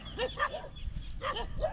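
A dog barks in a few separate bursts close by on a rural farm plot with vegetable beds, the barks sharp and fairly loud against light outdoor background.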